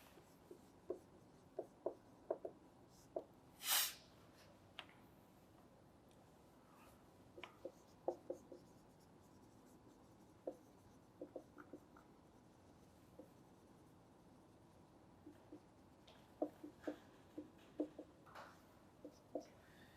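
A pen writing notes on paper, close and quiet, with scratchy strokes and light taps scattered unevenly across a stretch of silence.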